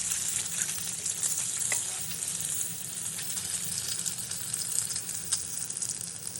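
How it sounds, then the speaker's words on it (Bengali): An egg fries in a pan in a home kitchen, a steady, fairly loud crackling sizzle with fine spitting pops that continues without a break. "এই ডিমটা ভেজে নিই"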